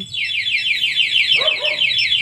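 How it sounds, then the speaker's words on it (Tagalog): A motorcycle anti-theft alarm on a Dominar 400cc, fitted as an aftermarket kit, shrieks with rapid, repeating high-pitched sweeps when the bike is locked, loud and close, with a short chirping tone midway. "Pag nilock natin sa lock, umamatay siya, mag-a-alarm na po yan."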